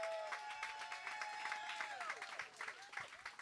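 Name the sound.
audience applauding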